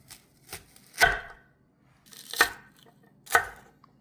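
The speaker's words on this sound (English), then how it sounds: "Next, we're going to slice the onion." A knife slicing through an onion on a board, a few separate crisp cuts with pauses between, close and clear, with no talking.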